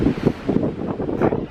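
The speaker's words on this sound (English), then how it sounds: "It's still a little bit windy out here today." Strong gusty wind buffets the microphone outdoors by Wascana Lake in Regina after a hurricane-force blizzard, a loud continuous low roar that swells and dips with the gusts and has no voices.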